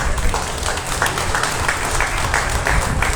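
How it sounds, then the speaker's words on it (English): Audience applauding after a class of beef calves in the show ring at a cattle show, a broad sustained wash of many clapping hands from a crowd, with a voice faintly underneath. "So let's give another nice big round of applause"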